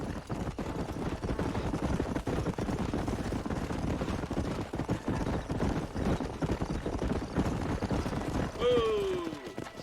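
Horses gallop across the open range in the 2010 game Red Dead Redemption, a steady dense drumming of hooves under game music and effects, with a man's whoop near the end.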